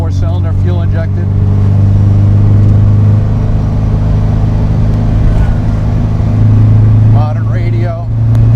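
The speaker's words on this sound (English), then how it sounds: "Great little exhaust note from that 4-cylinder." A 1960 VW Karman Ghia with a fuel-injected big bore 4-cylinder drones steadily from its exhaust while driving, loud and close, with someone talking over it.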